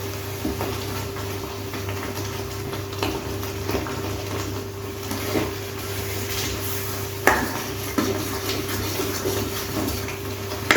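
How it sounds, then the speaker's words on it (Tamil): Urad dal halwa is stirred with ghee in a kadai, with soft, thick scraping and sticky squelching from the spoon, close and steady, and a few sharper knocks of the spoon against the metal pan. "நெய் விட்டு நல்லா கிண்டிக்கலாம்"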